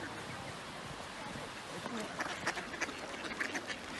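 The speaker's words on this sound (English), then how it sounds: "These are ducks that stayed in the winter on the Wisla River." Ducks wintering on the Wisla River in Ustron, Poland, quack in short bursts in the second half, over a steady wash of river and outdoor background noise with faint voices nearby.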